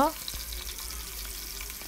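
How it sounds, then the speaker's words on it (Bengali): Rohu fish pieces fry in hot oil, a soft steady sizzle with small crackles, heard faintly after a brief tonal sound at the very start. "মাছের এক পাশ হয়ে গিয়েছে, উল্টে আর এক পাশও লাল লাল করে ভেজে নিব"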